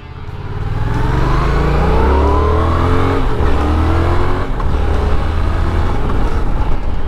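A Yamaha XSR motorcycle engine revs and accelerates loudly and close, its pitch climbing through gear changes, steady and continuous with no talking.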